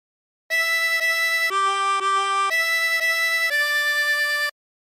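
A 24-hole tremolo harmonica plays a short phrase of The Yellow Rose of Texas, a handful of clear sustained reedy notes moving up and down, close and steady with no voices.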